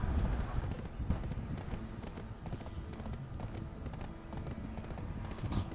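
Horse hooves gallop in the Black Desert video game, a steady rapid run that sits under a dense, loud wash of game sound throughout.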